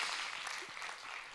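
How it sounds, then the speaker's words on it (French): Brief, quiet burst of steady applause from the audience at a French youth awards ceremony, a dense even patter with no voices on top. "On peut encore l'applaudir, Nicolas."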